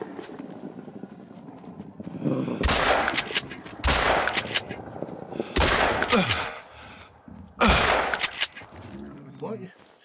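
Four heavy, booming blasts from a pump-action shotgun firing slugs at a wolf in a hunting video game, spaced a second or two apart, with the action cycling and outdoor ambience between shots.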